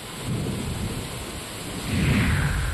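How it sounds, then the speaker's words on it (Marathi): Heavy thunderstorm rain pours down in Latur, Maharashtra, a dense steady roar with a low rumble of thunder that swells louder near the end. "मात्र मुसळधार पाऊस बरसतोय, रस्त्यावरची दृश्यमानता त्यामुळे कमी झाली आहे।"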